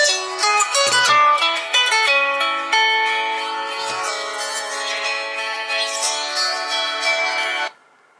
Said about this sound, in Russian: Звонок громкий.